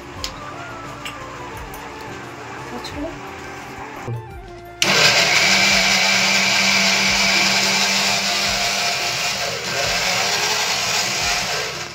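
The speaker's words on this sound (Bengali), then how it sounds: "আদা রসুনটা পেস্ট করে নিই।" A new electric blender whirs loud and steady as it grinds ginger and garlic into paste, starting abruptly after a few seconds of quiet room noise and running on to the end with a slight dip in pitch.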